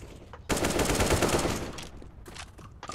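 Dense burst of rapid automatic gunfire in Counter-Strike: Global Offensive erupts after a short pause, sustained for about a second, then tapers into scattered fainter shots.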